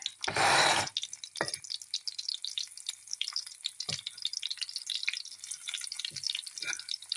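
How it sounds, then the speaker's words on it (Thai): Oil sizzles and crackles steadily in a frying pan as it comes to a boil for frying fish, with a brief loud hiss near the start and scattered pops and small clinks throughout. "นี่ค่ะน้ำมันเริ่มเดือดแล้วค่ะ"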